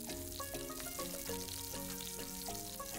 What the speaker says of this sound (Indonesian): Nah setelah minyak panas, masukkan irisan bawang tadi. Tumis sebentar.